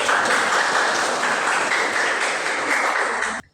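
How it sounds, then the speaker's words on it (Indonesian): A steady wash of applause from a class fills the room for a few seconds, dense and continuous, then cuts off abruptly at the end. "Kasih tepuk tangan berikut."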